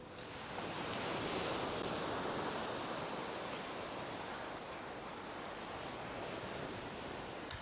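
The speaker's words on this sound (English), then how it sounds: "Oh, we're going to get a few waves here." Small waves washing onto the River Thames foreshore as a soft, steady hiss of surf and wind, unbroken throughout and fairly faint, with nobody speaking.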